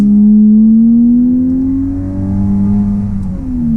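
A 2025 Volkswagen Atlas SEL all-wheel-drive SUV accelerates hard from inside the cabin, its engine drone climbing loudly and steadily in pitch, dipping briefly at a shift and then rising again, with no talk.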